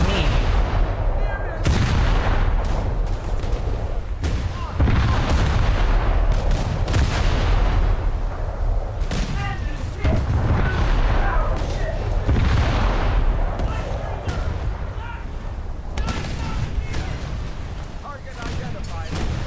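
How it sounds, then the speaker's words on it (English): Gunfire and artillery booms in War Thunder as an enemy shoots at the player's ship, a dense run of loud, repeated blasts and impacts with speech running over the battle noise. "He's shooting at me."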